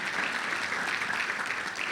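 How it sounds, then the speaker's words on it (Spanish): A Pentecostal church congregation claps loudly and steadily for a short stretch, with a faint murmur of voices underneath. "denle un aplauso fuerte al Señor"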